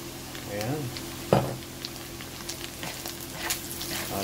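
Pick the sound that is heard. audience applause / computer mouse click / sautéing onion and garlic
sautéing onion and garlic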